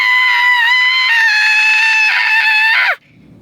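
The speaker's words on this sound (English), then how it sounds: "So I encourage you, scream, babes. Scream." A loud, sustained scream lets out pent-up emotion, one long strained cry held for about three seconds and then breaking off abruptly, with no other sound around it.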